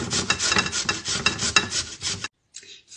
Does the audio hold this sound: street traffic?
no